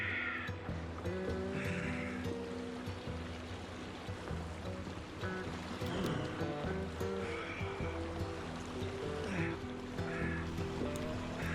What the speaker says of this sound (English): the kayak was filling with water rapidly